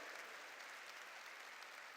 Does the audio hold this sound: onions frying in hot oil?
no